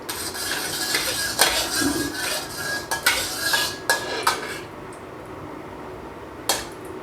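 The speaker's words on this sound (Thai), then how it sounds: "นำเส้นก๋วยเตี๋ยวที่คลุกเข้ากับซีอิ๊วดำหวานลงผัดครับ" Metal utensils scrape and clatter against a wok in quick, uneven strokes while stir-frying noodles coated in sweet dark soy sauce in lard, close up, then fade to a quieter tapping.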